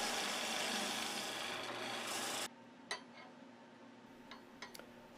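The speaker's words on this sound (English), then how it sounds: "I'm going to rough up the surface for the next test." Spindle work in end grain is roughened on a wood lathe, giving a steady abrasive rasp for about two and a half seconds that stops abruptly. A few light taps and clicks follow.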